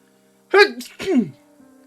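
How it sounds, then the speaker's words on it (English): A single sharp two-part sneeze bursts out close by, a quick intake followed by the forceful release, then quiet. "I feel like I'm about to sneeze."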